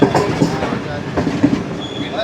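A train rolling through a busy railway crossing at Tando Adam near Karachi, wheels clattering in a steady rhythm with a brief higher squeal near the end, fairly close and loud.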